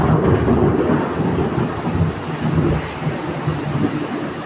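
Heavy rain pours steadily while low thunder rumbles underneath, a dense, continuous wash of sound throughout with no voices.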